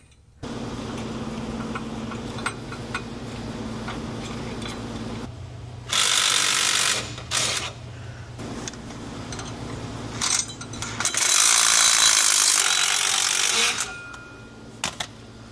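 Ratchet wrench with a deep well socket tightening nuts on bolts while an Air Lift LoadLifter 7500XL air spring kit is installed, giving steady rapid clicking that stops and starts in several bursts, close and fairly loud, with no talk.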